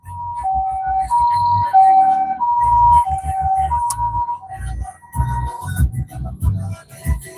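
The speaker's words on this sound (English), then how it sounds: "Mbadde manyoli wa ambulance oyitawo." An ambulance siren passing on a busy road, its wailing two-tone pattern repeating loudly and close over low traffic rumble.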